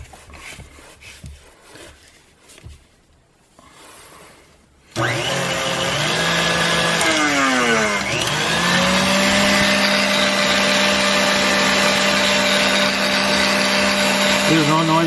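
A KitchenAid stand mixer fitted with a Messerschmidt grain mill attachment runs empty with no grain, starting abruptly after quiet handling noises and holding a loud, steady motor whine with a brief pitch dip before settling.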